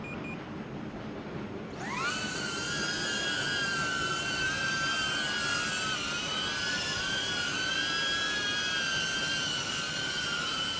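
An FPV drone's motors spin up sharply from a low hiss into a loud, sustained high-pitched whine as it lifts off, the pitch wavering slightly as it hovers close by.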